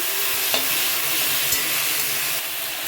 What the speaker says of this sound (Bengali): ঢেঁকি শাকের ভাজা বসা দিলাম